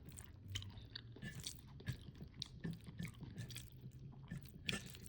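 Someone eats salmon fish pulusu, a tangy fish curry, mixed with rice, with soft wet chewing and smacking sounds repeating close up in a steady rhythm and no talk.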